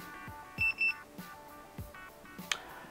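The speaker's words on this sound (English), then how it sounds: "an open circuit is signaled by the pipe clamp emitting a double beep" A Fieldpiece Job Link JL3PC pipe temperature clamp gives a quick, faint double beep, two short electronic tones close together against a quiet background of other soft tones and clicks.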